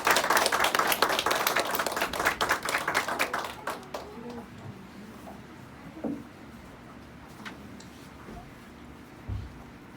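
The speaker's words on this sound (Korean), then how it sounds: "영광의 박수를 올려드리겠습니다." A church congregation applauds together during a worship service for about three seconds, then the clapping fades out into a quiet room with a few scattered sounds.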